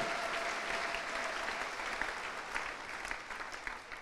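Applause from a church congregation acclaiming God during an Easter sermon, a steady wash of clapping at a moderate distance with no voices above it.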